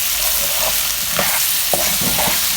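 Ground spices with turmeric frying in a pan for aloo methi, a loud constant sizzle with several quick scraping stirs on top, close by and with no voices.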